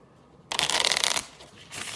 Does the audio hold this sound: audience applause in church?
no